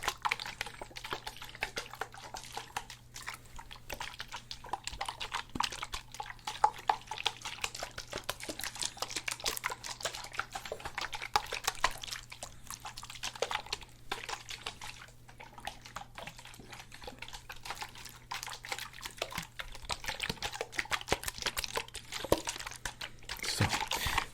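Continuous close sloshing of water inside a bottle, dense churning splashes and trickles that run on without pause for the whole stretch, fairly soft and with no talking.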